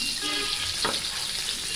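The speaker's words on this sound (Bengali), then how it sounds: "ডিমগুলো ভাজা হয়ে গিয়েছে," Eggs fry in hot oil in a pan, a continuous close sizzle with a brief scraping stir in the middle, no voices.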